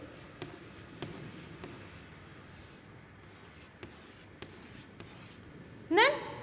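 Pen or marker drawing small figures by hand for a third-grade maths lesson on groups of balls, with light steady scratching strokes, a few soft taps and a brief louder scribble near the end, no talking.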